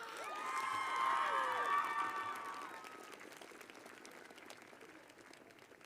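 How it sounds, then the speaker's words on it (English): Graduation crowd at a high school ceremony breaks into loud applause and cheering for the drum major, with whoops and shouts riding over dense clapping that swells in the first two seconds and then settles to a steadier, softer patter. "Please give a round of applause for my drum major,"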